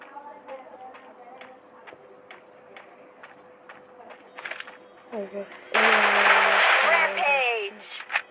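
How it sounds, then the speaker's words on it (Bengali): Gunfire in a mobile battle royale shooter game, rapid repeated shots that build into loud, dense bursts of automatic fire with game effects, close and prominent. "সে ফায়ার করছে।"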